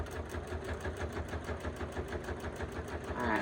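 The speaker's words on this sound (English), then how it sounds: "I'm going to back stitch just a little there to secure that" A sewing machine back stitches along the edge of a fabric chapstick holder, running in a steady, fast mechanical rhythm of needle strokes, close and continuous for a few seconds.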